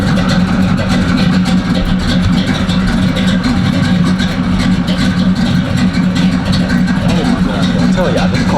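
A Chevy V8 in a boxy Chevrolet with an aggressive chopping cam idles steadily with a loud, lopey rumble that keeps up throughout, while people talk over it.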